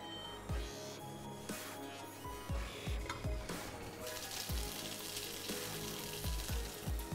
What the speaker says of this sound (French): je vais mettre directement nos saucisses coupées à la poêle